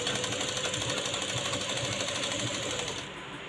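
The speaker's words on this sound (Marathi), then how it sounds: "आपण नंतर अगोदर शिलाई मारून मग कट करूयात" A sewing machine runs steadily as it stitches fabric pieces together while making a blouse-matching cord, a close, continuous whirring drone that stays loud throughout and eases slightly near the end.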